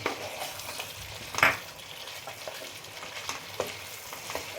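Cauliflower frying in a pan with cashew paste for a do pyaza, giving a steady sizzle with occasional scraping and stirring clinks of a utensil against the pan.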